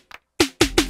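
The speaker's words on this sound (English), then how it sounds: "track number 1 sounds like this, which is a bass drum." Bass drum hits from an Elektron Syntakt drum machine: after a faint soft blip, three punchy, booming kicks land alone in quick succession, loud and close, each with a deep low thump and a short bright attack.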